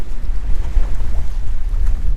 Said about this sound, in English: Once in a while we get a big burst coming across here.